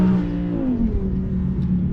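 An Audi R8 supercar engine revs and hums steadily at close range, a deep continuous drone with a slight rise and fall in pitch and no talking over it.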